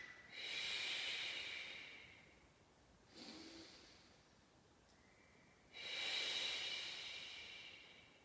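Deep, hissing breaths during a Pilates arm exercise: two long, strong airy exhales framing a shorter, softer breath in the middle, close and alone with no talking.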